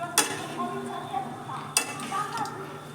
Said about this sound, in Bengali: তারপর সবজি আর কাজু কিশমিশগুলোকে রাইসের সাথে আমি একটু মিশিয়ে নেব।